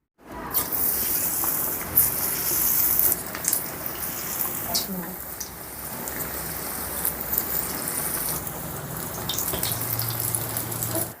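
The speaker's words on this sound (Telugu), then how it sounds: "ఇప్పుడు స్టవ్ని సిమ్లో పెట్టుకొని బజ్జీలు వేసుకుందాం" Potato bajji fritters fry in hot oil on a stove set to low, giving a steady crackling sizzle with bursts of bubbling and a few sharp spatters, heard close up throughout.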